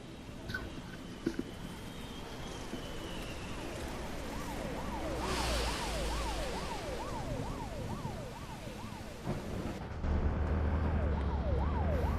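Video game ambulance siren wailing in a rapid repeating up-and-down pattern over a steady rumble of engine and ambient game noise, moderately distant and fairly quiet, with a few thumps and no talking.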